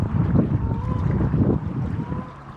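Strong wind outdoors on a fishing trip, a loud, continuous low rumble and buffeting close to the microphone, rising and falling in gusts, with no talk.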